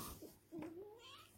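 A young kitten gives a single thin, rising meow, faint and close, preceded by a brief soft chirp.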